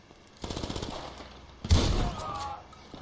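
Gunfire in the video game GTA V: a rapid burst of shots, then a louder single blast with a noisy decay, close and forceful, with no talking over it.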